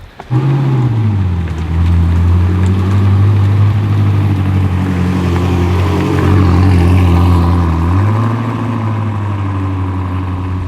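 A very fast car's engine roars loud and close as it accelerates through gears, pitch climbing steadily, dipping at a shift near the end, then rising again.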